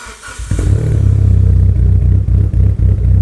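Mitsubishi Evo VIII exhaust recorded up close, starting from a quiet idle then bursting into a loud, deep, throbbing rev that holds with rapid pulsing, dips briefly and surges again.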